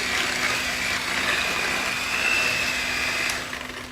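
An electric mixer whirs steadily through lemon ricotta cookie dough, a close continuous motor hum with a thin high whine that shifts slightly in pitch before tapering off near the end.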